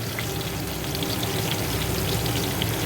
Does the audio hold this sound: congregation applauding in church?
no